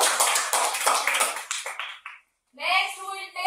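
Young students in a class clap for a classmate, brisk close clapping from a few children that fades after about two seconds, followed by a voice.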